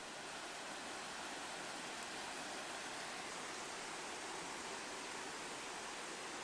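Pine Creek rushes in a broad, steady hiss of flowing water that carries on without a break throughout, in the San Isabel National Forest, with no voices.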